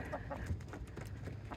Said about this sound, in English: there's just some city chickens hanging out